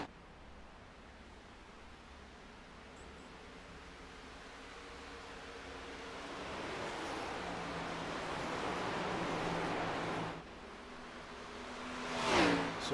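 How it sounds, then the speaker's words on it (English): A Gen 6 stock car in a racing game at Darlington, heard from in-car as the engine drone falls and rises with lifts off the throttle through the turns, steady and fairly faint with a sharper surge near the end. "can hear just how much he has to let off the throttle to get through these turns."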